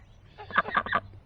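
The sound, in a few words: ducks quacking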